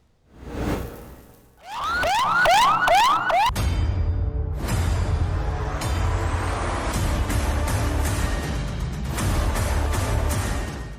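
An ambulance stuck in traffic after a street rally in Lahore sounds its siren, a loud wailing sweep that gives way to steady, harsh street noise with horns and engines, and no talk.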